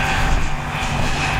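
FMS F-35 Lightning II 64mm electric ducted fan RC jet at full throttle, a steady high-pitched fan whine and rushing roar, moderately loud and continuous with no talking.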